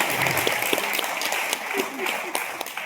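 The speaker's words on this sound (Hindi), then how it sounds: "ताली बजाओ।" An audience claps in steady, dense applause at a gathering, with a voice speaking over the clapping throughout.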